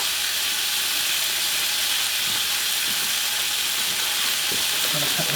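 Ling fish and celeriac fry in a pan with butter, giving a steady, dense sizzle and hiss close to the pan throughout, with faint kitchen clatter beneath.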